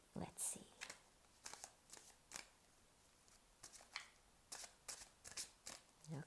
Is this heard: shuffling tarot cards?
yes